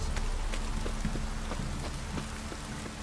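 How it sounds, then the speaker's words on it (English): Steady rain in The Witcher 3 video game hisses with occasional heavier drops tapping nearby, a continuous wet patter at moderate volume. "This downpour's a bastard"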